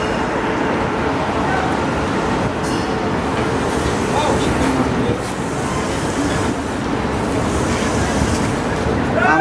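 An Indian Railways Mahananda Express with LHB coaches pulls slowly into a station, a continuous low rumble and clatter of wheels that stays close and steady while people talk nearby.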